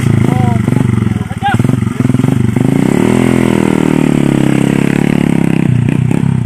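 Motorcycle engine revving loudly up close, a steady rough rattling drone that rises and falls in pitch, with voices talking over it.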